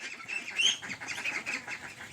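Meat ducks on a farm quack and chatter in a close, busy cluster, several birds calling over one another in a brief burst.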